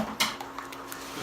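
A cornstarch-thickened sauce for bourbon chicken stirred in a pot, a few close clinks and scrapes of a utensil against metal over a quiet background.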